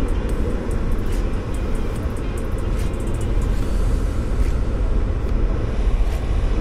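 Steady rushing air fills the cab of a truck with an MX-13 engine, a loud, even broadband whoosh that holds without a break and carries no voices.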